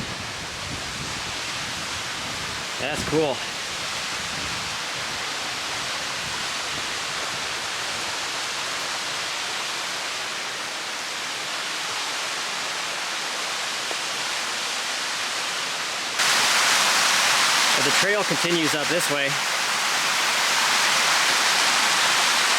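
Stream water rushes strongly beside the Elk River hiking trail, a steady loud roar that grows louder for the last few seconds. Someone speaks briefly twice over the water.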